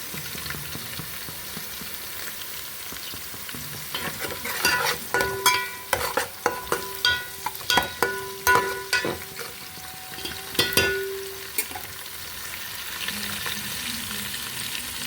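Onions fry in hot oil for an Andhra-style mutton biryani, a steady sizzle broken by a run of sharp clattering spoon strokes against the pan in the middle, then settling back to sizzling.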